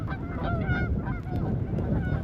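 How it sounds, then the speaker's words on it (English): Ducks or geese honking outdoors on a cold winter camping trip during an ice storm, several overlapping calls repeating at a moderate distance over steady wind-like background noise. "Oh, look at the ducks."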